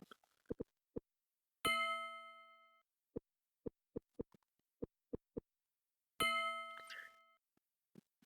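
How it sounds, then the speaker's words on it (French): In the video game Petscop, a character's speech is voiced by a ringing bell: two long, bright chimes that decay slowly, separated by a run of short, evenly spaced low plinks, all on a quiet background. "il a fait que le son que fait Belle quand elle parle, ce soit le son de cloche"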